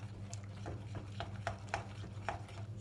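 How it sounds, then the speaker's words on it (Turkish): Lemon cookie batter with white chocolate being stirred in a bowl, a quiet series of soft scraping and tapping strokes in an irregular rhythm, close and faint. "Yine güzelce karıştırıyorum."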